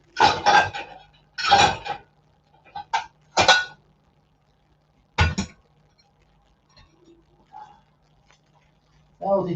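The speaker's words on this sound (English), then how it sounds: "Aldi dishwasher tablets have not done their job." Dishes, cutlery and glasses clattering as a dishwasher is unloaded after a run with Aldi tablets, in several sharp bursts of clinks and knocks separated by quiet pauses.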